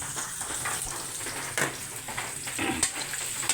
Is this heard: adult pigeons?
no